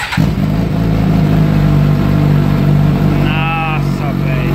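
A Suzuki GSX-S 1000 motorcycle idles loudly with a newly installed exhaust in a garage, a steady low rumble that runs the whole time while people talk over it.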